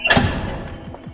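A very heavy neo-gothic door in an abbey lands one deep, loud thud close by, followed by a short fading rumble and faint knocks.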